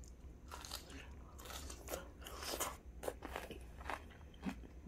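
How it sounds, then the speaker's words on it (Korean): Crisp crunching bites and chewing of radish-greens kimchi made with white ground chili, a steady run of close, loud crunches with no talking. "제가 하나 그냥 손으로 하나 집어서 먹어보겠습니다."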